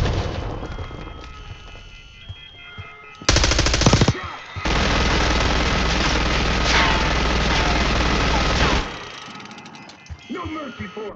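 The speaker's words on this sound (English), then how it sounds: "Stay low until that minigun stops." Minigun firing in the Call of Duty Black Ops 6 campaign, long loud sustained bursts of rapid automatic fire with booming impacts between them, overlaid by game battle noise.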